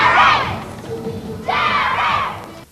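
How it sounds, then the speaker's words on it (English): Crowd of screaming fans awaiting Geri Halliwell of the Spice Girls during a 1999 visit to Australia, two loud bursts of high-pitched shrieking close by with a brief lull between. "The screaming fans waiting in eager anticipation."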